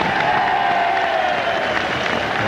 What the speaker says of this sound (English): Tremendous cheer for Seve